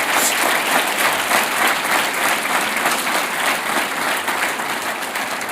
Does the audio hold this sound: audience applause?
yes